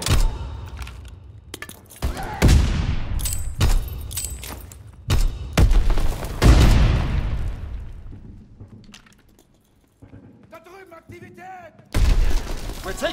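Gunfire and explosions in the Call of Duty WWII video game: heavy booming blasts and bursts of shots come in irregular clusters, with decaying rumbles, a quieter gap and a final loud burst, and voices speak in places.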